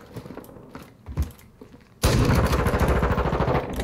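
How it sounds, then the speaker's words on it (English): Gunfire in the Call of Duty Modern Warfare 2 beta: scattered single shots and impacts for two seconds, then a sudden sustained rapid automatic burst, loud and close. "He's trying to shoot me through the ground."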